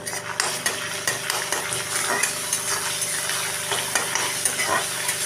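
Ginger and garlic paste is stir-fried in a pan for a ridge gourd, potato and prawn dish. Sizzling oil runs under repeated scraping and clinking of a spatula stirring close by.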